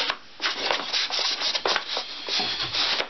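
Repeated back-and-forth strokes of a shooting sander fitted with inch-and-a-quarter sandpaper, rasping against wood in a rapid uneven rhythm, close and steady with no speech.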